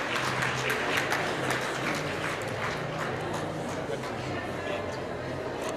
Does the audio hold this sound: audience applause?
yes